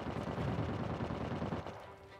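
Rapid gunfire from the video game Uncharted 4 crackles fairly faintly as a dense burst of shots, thinning out near the end.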